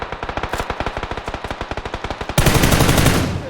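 Rapid automatic gunfire in PUBG cracks out as a fast, evenly spaced burst of close, loud shots, then gives way abruptly to a dense, sustained roar of overlapping fire.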